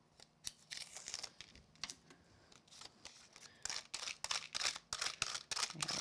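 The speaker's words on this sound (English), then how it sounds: "Take my tape off." Tape peeled off a die-cut paper heart shaker card, heard as a series of crisp, close ripping and crinkling bursts that grow denser and louder toward the end, with no talking.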